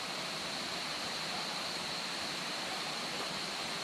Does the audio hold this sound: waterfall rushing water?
yes